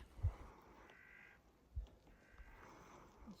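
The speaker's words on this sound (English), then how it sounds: "Strangest bird sounds around here." Odd bird calls ring out along a remote hiking trail, a few faint nasal, croaking cries with brief gaps between them, heard at a distance against quiet outdoor ambience.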